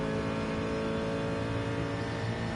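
A race car engine in a racing video game set at the Barcelona circuit holds a steady, buzzing high-rev drone throughout, loud and continuous with no voices over it.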